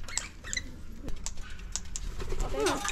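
Pigeons or doves cooing close by while being hand-fed at Margaret River, with soft patter and scuffling and people talking over them.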